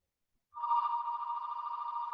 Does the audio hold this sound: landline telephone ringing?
yes